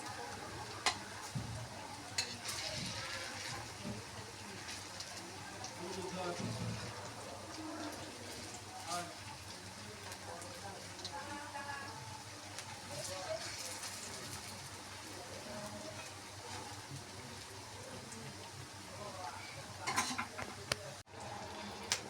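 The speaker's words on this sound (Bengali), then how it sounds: "এবার বড়াগুলোকে আমি উল্টিয়ে দিচ্ছি, কত সুন্দর উল্টে যাচ্ছে দেখো।" Fritters (bora) frying in oil and being flipped, with a faint, continuous sizzle and soft scraping and stirring noises. The whole sound stays quiet and low, with a few clatters near the end.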